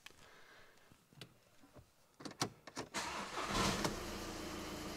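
A car with an aircon fault and a noise complaint, in for timing belt work, gets started: a few clicks and a cranking whir, then the engine catches and settles into a steady idle.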